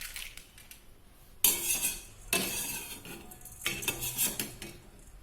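Roasted dal being scraped from a pan onto a plate, with bursts of metallic scraping, rattling and clinking of the spoon against cookware in three close, busy stretches.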